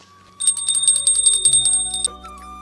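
A small worship bell rings in rapid, repeated clangs during a morning puja, bright and close, lasting about two seconds before it stops, with no talking.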